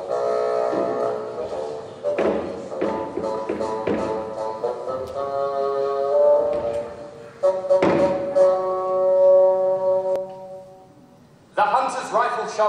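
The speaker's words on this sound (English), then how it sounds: "Shots by the timpani and the bass drum." Timpani and bass drum play sharp shot hits in a school performance of Peter and the Wolf, heavy strikes landing amid sustained orchestral tones, with a brief pause before the ensemble resumes.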